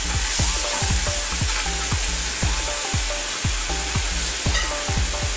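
Crab simmering in coconut milk in a pan, stirred with a rhythmic series of scraping strokes over a steady bubbling sizzle, close and fairly loud with no talking.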